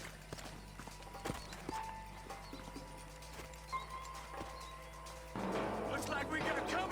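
Horses' hooves clip-clop at an unhurried pace in Red Dead Redemption 2, with steady irregular thuds at moderate distance. Voices and other game sounds come in toward the end and grow busier.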